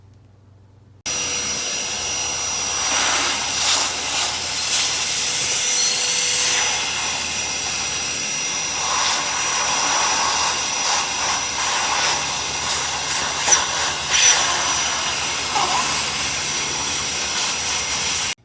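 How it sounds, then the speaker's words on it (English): A vacuum cleaner runs continuously at close range, sucking dirt from around a Yamaha PW80 motorcycle engine, a steady loud roar that shifts in pitch as it sucks up debris. "I'm going to take a vacuum and just vacuum some of that dirt up"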